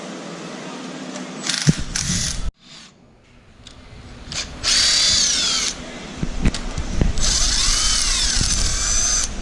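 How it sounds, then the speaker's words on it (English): A power tool loosening the cylinder head bolts on a Subaru engine during a head gasket job: bursts of high whining drill spin separated by pauses and clunks, loud and close in a garage. "About to remove the head. It's just these 6 bolts here."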